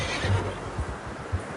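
A horse in Red Dead Redemption 2 gives a low, rumbling whinny that runs for over a second, with a few soft snorting pulses after it, close and fairly loud.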